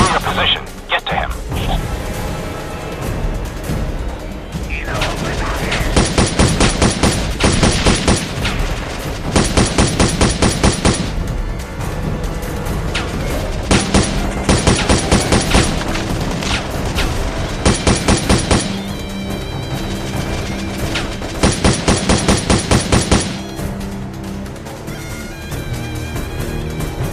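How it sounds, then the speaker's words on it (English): Heavy gunfire in the video game Modern Combat Sandstorm: loud, repeated bursts of rapid automatic fire cutting in every few seconds over a constant din of battle noise and voices. "Taking heavy fire!"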